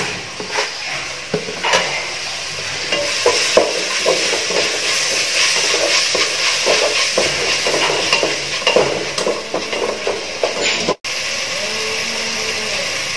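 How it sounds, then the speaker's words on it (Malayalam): Onions sautéing in a masala base for beef biryani, a steady broadband sizzle with frequent spoon scrapes and stirring clatter, loud and close throughout, briefly cutting out near the end. "ഉള്ളി അത്യാവശ്യം വഴണ്ടി വന്നിട്ടുണ്ട്"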